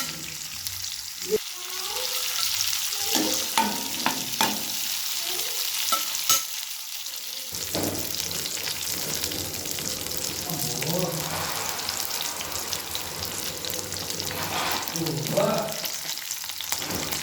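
Curry leaves crackle and sizzle as they drop into hot oil while broccoli fry is being made, a steady frying hiss with stirring scrapes and short spits of sound, plus intermittent clinks of a spoon near the pan.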